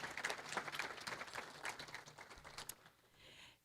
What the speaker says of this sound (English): I think we should clap for that.